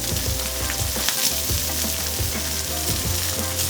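Wagyu steak laid on a hot cast iron griddle, its fat melting into a loud, steady, close sizzle that hisses continuously without pause and with no voices.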